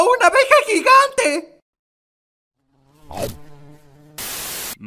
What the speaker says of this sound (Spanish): ¡Oh no! ¡Una abeja gigante!